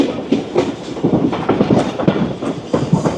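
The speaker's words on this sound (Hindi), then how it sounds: "ट्रैक बदला ट्रेन ने, लूप लाइन से मेन लाइन पर आ गई।" The Sir Syed Express rolls from a loop line onto the main line near Faisalabad station, its wheels knocking in loud, close, uneven clickety-clack over the switch points amid constant rumbling.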